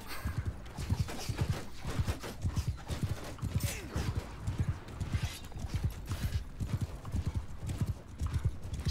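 Horse hooves gallop in Mount and Blade 2, a steady rapid clip-clop of hoofbeats pounding close and loud from start to finish, with a brief creak in the mix.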